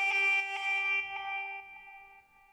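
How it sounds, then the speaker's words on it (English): A Serum synth lead preset called Ladies sounds a few bright, sustained notes with buzzy harmonics, starting with a short rhythmic stab and then holding steady as it slowly fades, alone and clean. "In this case, for example, I used the lead called Ladies"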